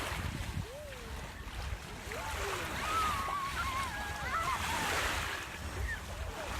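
Ocean surf washes onto the beach at Rosebud, Victoria, in a continuous rushing wash with wind buffeting the microphone. Faint voices and gliding bird-like calls sit in the background.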